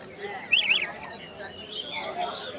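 A rare single bird at the Mirpur-1 bird market gives a quick, bright burst of chirps, followed by fainter, scattered calls amid market background noise and nearby voices.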